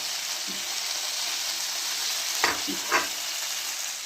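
Anchovies frying in a little oil in a pan give a steady, close sizzle, with a couple of brief spoon or pan clinks near the end as oil is poured back over the fish.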